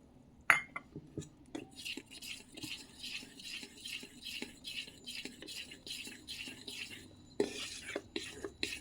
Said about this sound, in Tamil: இந்த ஃபோக் ஸ்பூன் வந்துட்டு லம்ஸ் இல்லாமல் கலக்க முடியும்